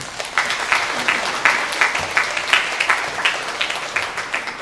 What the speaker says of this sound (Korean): 이제 나올 때 우리 박수로 맞이합시다.